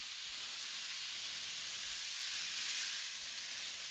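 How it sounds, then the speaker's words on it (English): Food sizzling in a hot pan at home gives a continuous, even, crackling hiss, close and moderately quiet, with no voices over it. "Delicious frying noises"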